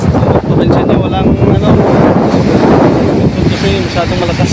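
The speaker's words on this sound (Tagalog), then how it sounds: "Lakas yung hangin." Strong wind blasts across a microphone at sea amid rough waves, loud and gusting continuously, with a faint sense of water movement beneath.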